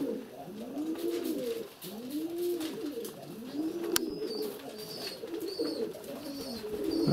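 Feather-footed pigeons coo in repeated rolling phrases close by, one call following another with short gaps, over a steady background hum and a few faint higher chirps.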